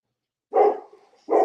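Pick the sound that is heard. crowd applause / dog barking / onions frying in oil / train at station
dog barking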